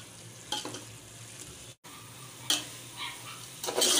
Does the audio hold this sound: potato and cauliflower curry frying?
yes